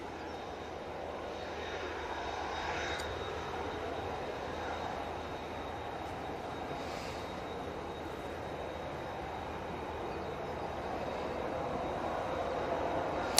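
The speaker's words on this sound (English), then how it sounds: "the EasyJet that's been on uniform right in front of us has been told to start those engines" An EasyJet airliner starts its engines at Manchester Airport, producing a steady, broad jet roar with a faint whine that holds constant throughout, heard from a moderate distance with no voices over it.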